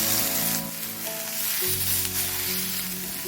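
Snack batter fries in a cast iron pan, a loud, continuous close-up sizzle and crackle with a steady hiss and some low rumble, no voices over it.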